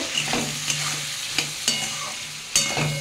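Dry spices sizzle in a hot pan with a little water while a spoon scrapes and stirs in several quick, uneven strokes, close by.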